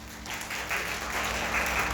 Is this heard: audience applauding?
yes